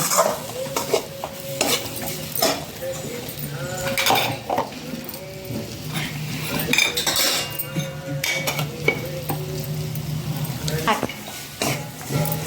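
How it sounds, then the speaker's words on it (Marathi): Jaggery and coconut modak filling stirred in a pan, a steady run of scraping and stirring with utensil clinks over a low hum, moderately loud and close throughout. "तर आता हे गूळ टाकून एकजीव करून घ्यायचं आपल्याला छान"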